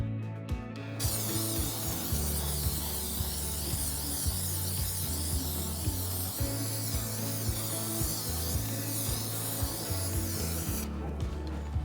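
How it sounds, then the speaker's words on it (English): Adhesive is sprayed from a can onto a wall area around a copper pipe during a film barrier repair, a long continuous hissing spray with faint clicking underneath, starting and stopping abruptly, close and alone. "Spray the area with the adhesive."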